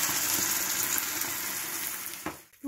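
Loud, steady sizzling as about a tablespoon of water hits melted butter in a pan on maximum heat, a bright crackling hiss that fades out near the end.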